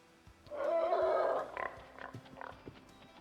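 Wild pig in the Way of the Hunter hunting game, a loud rough squealing grunt lasting about a second, then a few shorter snorts and grunts close by.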